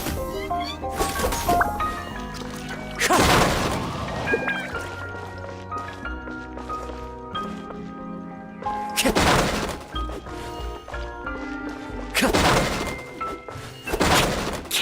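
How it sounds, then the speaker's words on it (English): Boxes are smashed in the video game Simulanka, with repeated heavy thumps and crashing impacts at irregular intervals over a busy, continuous game soundtrack. "you destroy the boxes a little more quietly?"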